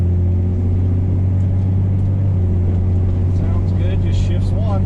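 A 1965 Corvair Monza with a two-speed transmission drives along rough roads, its engine a steady, close, loud low drone and rumble that holds evenly throughout, with faint rattles above.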